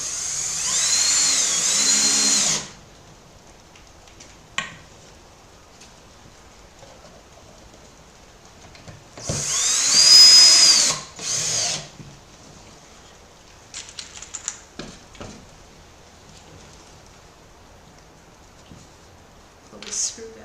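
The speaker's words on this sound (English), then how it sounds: "So let me go ahead and I'll start drilling these in" A power drill driving screws into wood whirs in a few loud bursts, a long one at the start and two shorter ones later, with quiet gaps and faint clicks between.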